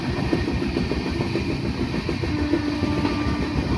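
An express train, the Dhouli Express on the Puri to Howrah route, runs at speed past stations, heard from inside the AC chair car as a continuous low rumble with rhythmic wheel clatter.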